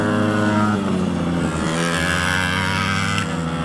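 Racing cars roar past on a race track during lapping, loud, close engines with rising and falling pitch as they pass, steady and continuous without talk.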